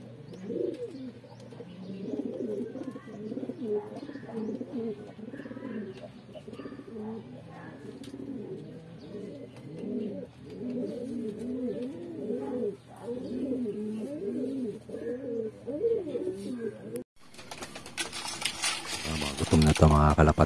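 Hungry racing pigeons coo steadily at close range in a loft, a dense overlapping chorus of throaty rolling calls that runs throughout, with a sharp rattling clatter bursting in near the end.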